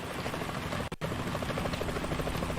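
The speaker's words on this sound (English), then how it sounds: "Is that a chopper I just heard?" Helicopter in the video game Metal Gear Solid 2: a steady, loud rotor drone fills the scene with a rhythmic chop, briefly cut by a split-second dropout near the start.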